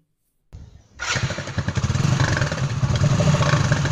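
A motorcycle engine cranks and catches after a moment of silence, then settles into a loud, close, chugging idle.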